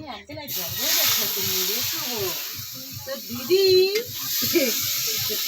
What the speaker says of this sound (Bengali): এটা নারকেল কুটছি নারকেল পিঠা হবে